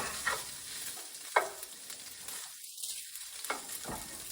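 Sausage browning in a pan gives a soft, steady sizzle, with a few scrapes and stirring clicks against the pan and short quieter gaps.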